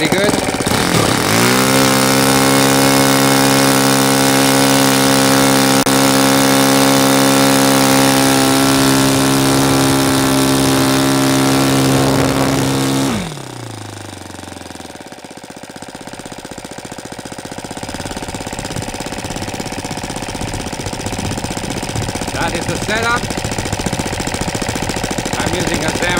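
A Saito FA180 model engine converted to run on gasoline roars loudly and steadily at close range, then cuts out partway through, leaving quieter background noise.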